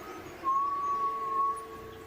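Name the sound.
strange distant whistle in a horror video game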